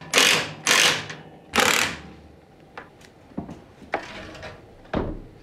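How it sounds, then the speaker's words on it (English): Screws being adjusted on an attic stair frame during installation, a series of sharp mechanical clicks and ratcheting bursts, three loud ones early followed by fainter, spaced clicks, close by. "Now just keep adjusting the screws until you're happy with the fit."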